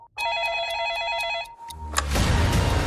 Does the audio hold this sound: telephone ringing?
yes